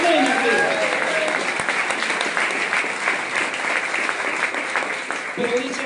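A church congregation breaks into sustained, loud applause that fills the whole stretch, with shouts and voices cheering over the clapping.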